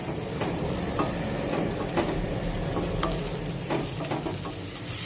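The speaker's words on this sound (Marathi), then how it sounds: "2 ते 3 मिनिटे ही मटकी या फोडणीमध्ये छानपैकी परतून घेऊया" Moth beans sautéed in a hot spice tempering give a steady, dense sizzle and crackle with occasional stirring scrapes, close and continuous throughout, with no talking.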